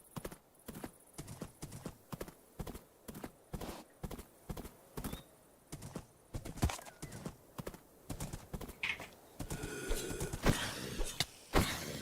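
A horse in a Minecraft-style modded game clip-clops along at a steady trot, each hoofbeat a crisp, evenly spaced knock, followed by a brief whinny and a rougher patch of noise near the end.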